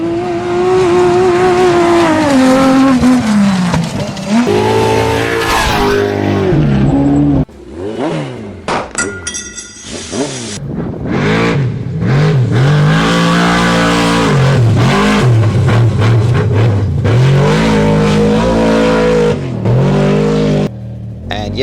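Off-road race vehicles at the Finke Desert Race in the Northern Territory desert, some four-wheel drive, roar loud and close with revving engines that rise and fall through repeated passes, one brief gap midway before the roar returns.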